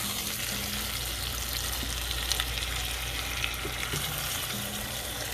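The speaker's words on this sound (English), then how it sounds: "And we saute this" Pork pieces sauté in a pan for Hungarian pörkölt stew, giving a steady, low sizzle throughout with a few faint scrapes of stirring; no one speaks.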